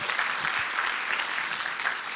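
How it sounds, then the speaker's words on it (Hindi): An audience at a corporate team growth talk claps in a steady, dense patter, somewhat distant and fairly soft, lasting the whole moment without a break. "तो जोरदार तालियां आपके लिए होनी चाहिए"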